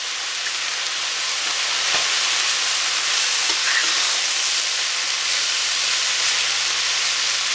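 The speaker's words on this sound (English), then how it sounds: "so I'm just going to stir all this through." Mustard leaf and cabbage filling stirred in a hot frying pan, a loud continuous hiss and sizzle with occasional scraping knocks, no speech.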